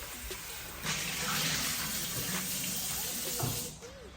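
Tap water runs steadily into a sink while red rice is rinsed a second time, a close splashing rush that swells midway and cuts off near the end.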